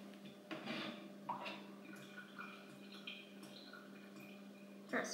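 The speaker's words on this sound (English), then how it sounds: "I wanted to watch a water drip." Water drips slowly in a quiet room, a few soft, separate plinks spaced seconds apart over a faint steady hum.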